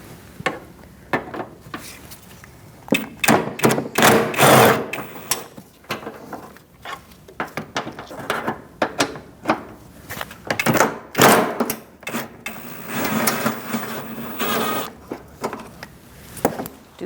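A 10mm socket on a ratchet removes front bumper cover bolts on a 2008-2014 Mercedes-Benz C300, giving repeated close, rapid ratcheting clicks in bursts with knocks and handling noises between them.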